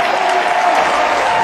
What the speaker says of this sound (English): That cheer at the end was one of the most genuine cheers I've heard in a long time.